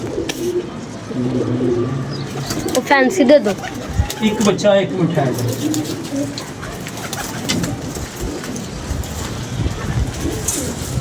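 Pigeons coo repeatedly at close range, soft throaty calls in short rolling bursts, while people talk over and between the calls.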